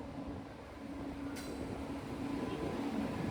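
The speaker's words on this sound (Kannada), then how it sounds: "ಇದೇ ನೋಡಿದ್ರು ಟ್ರೈನ್" A sleeper-class passenger train at a crowded railway station, heard as a steady low rumble and broadband noise throughout, with a brief hiss or brake squeal in the middle and no clear talk.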